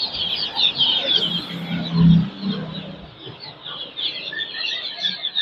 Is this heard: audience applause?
no